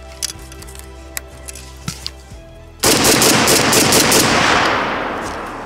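A Bulgarian AK-74 (Arsenal SLR-104) rifle cuts through a few quiet handling clicks with a sudden, very loud string of rapid shots that continues to the end.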